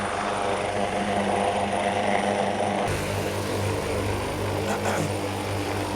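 A Pakistan Air Force helicopter carrying commandos climbs into the sky with a loud, steady rotor and engine roar that holds throughout, its tone shifting partway through.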